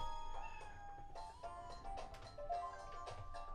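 Cartoonish cat meows from the video game Wii Party U, a few short tonal calls set against bright game music and chiming effects, fairly quiet and without talk.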